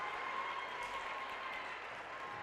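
A student section crowd cheers steadily at a high school basketball championship game, a continuous wash of distant voices and clapping in a gym, with no talk over it.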